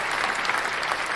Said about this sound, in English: I'm going to have y'all put a round of applause for Miss Gigi Guerrero.